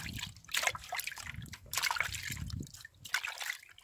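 Water trickles and splashes gently as plant roots are rinsed by hand, a soft, uneven running flow with small sloshes, close by and fairly quiet, with no talking.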